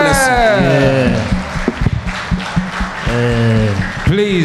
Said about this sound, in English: Please, a round of applause to Honorable Minister one more time.